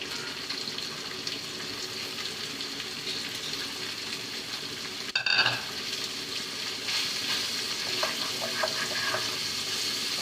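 Latke fish jhuri frying and being stirred in a pan with coriander leaves, a steady close sizzle running throughout, broken by a brief louder clatter of stirring midway and a few light scraping taps near the end.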